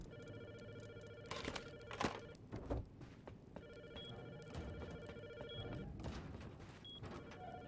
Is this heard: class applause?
no